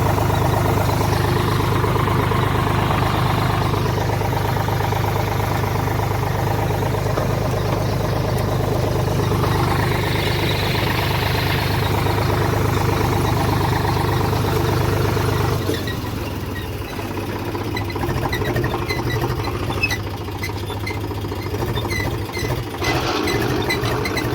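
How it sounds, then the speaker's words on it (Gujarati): A tractor engine runs steadily while sowing a field, giving a continuous low droning hum that grows lighter and rougher about two-thirds of the way through. "ફાઇનલી આપણે ટ્રેક્ટર આવી ગયો વાવવા"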